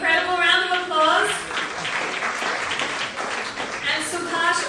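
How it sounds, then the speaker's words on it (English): Audience applause at a charity gala auction for cancer patients, a broad wash of clapping that swells and holds for several seconds, with a host's voice talking over it near the start and end. "Amazing, incredible round of applause."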